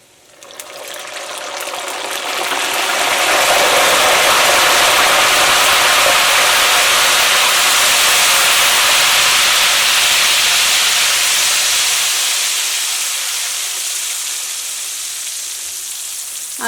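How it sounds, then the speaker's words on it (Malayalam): Peanuts frying in hot oil for homemade Kerala mixture burst into a loud, steady sizzle as salt water is sprinkled in. The hiss swells within two seconds, holds strong, then slowly eases toward the end. "ഇനി ഞാനിതിലേക്ക് കുറച്ച് ഉപ്പും വെള്ളവും തെളിച്ച് കൊടുക്കണം"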